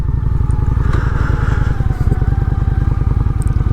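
Honda Shadow 750 ACE motorcycle riding, its engine a loud, steady rapid rumble with continuous wind and road noise throughout, close and unbroken.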